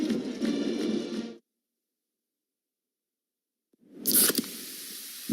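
Pepsi Zero Sugar cola fizzes with a soft hiss, then falls silent, before a sharper burst of carbonated hissing and crackle returns near and clear.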